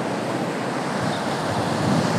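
Swollen, rising river water rushes over submerged rocks near a bridge, making a dense, constant roaring wash up close with no voices.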